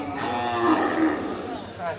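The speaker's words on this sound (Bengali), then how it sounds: "দেখুন কত গরু আসছে" A single cow or bull lets out a long, drawn-out moo at a busy border cattle market, near and fairly loud, tailing off at the end with faint crowd noise beneath.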